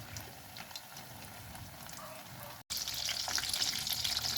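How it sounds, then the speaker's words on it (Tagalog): Eggplant slices frying in hot oil alongside anchovy fritters, a steady close sizzle and crackle that briefly cuts out, then returns louder and brighter. "Yan ang kapising talong na ating piniprito"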